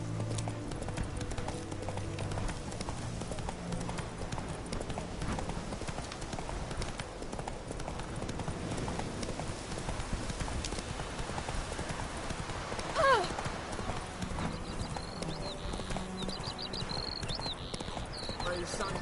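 Hooves of Roach, Geralt's horse in The Witcher 3, clip-clop steadily in a galloping rhythm over a dense bed of game music and ambience, with a brief sharper accent near the middle.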